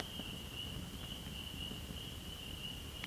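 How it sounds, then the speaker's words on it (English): Distant spring peeper tree frogs near a backcountry lakeside campsite keep up a continuous high, thin chorus, faint but steady throughout, with no talking. "Those are all peepers. They're little tree frogs."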